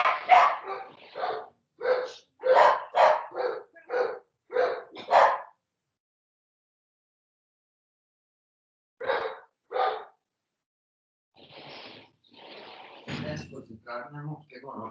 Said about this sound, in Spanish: yo tengo que espantar un perrito allí que nos está alborotando la manada